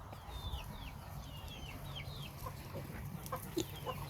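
Chickens on a pig farm cluck and chirp in a series of short, rising calls over a low background hum, moderately close, with a few sharper knocks and no talking.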